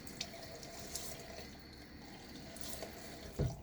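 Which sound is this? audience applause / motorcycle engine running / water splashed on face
water splashed on face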